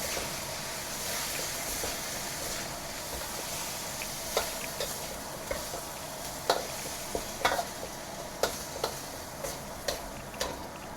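String beans (sitaw) sizzle steadily in a pan while a utensil stirs them, with a string of sharp scraping clicks and taps coming faster toward the end, close and clear over the frying hiss.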